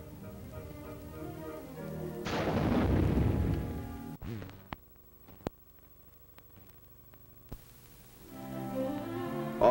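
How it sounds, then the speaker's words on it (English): A 57 mm recoilless rifle fires at a target in Alaska, one heavy booming blast rolling out over a few seconds before fading into quieter ambience with scattered clicks and a rising rumble at the end. "Finally, the 57 recoilless rifle blasts away at the target."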